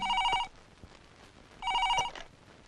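A telephone rings twice in an indoor film scene, two close electronic trilling bursts with a quiet pause between them and no talk.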